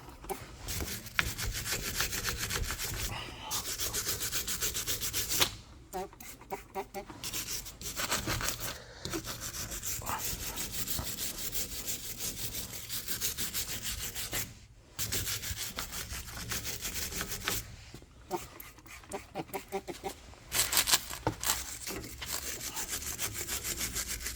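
A brake caliper surface being scrubbed by hand during cleaning before painting, a steady rough rubbing rasp that runs in long strokes with a few brief pauses, close and fairly loud with no talk.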